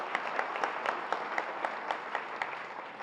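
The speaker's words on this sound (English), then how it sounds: "I'd like to give Mark a round of applause for all of the hard work he puts into that center" A school student achievement night audience gives a dense, steady round of applause, with many hands clapping together in a continuous rattle from start to finish.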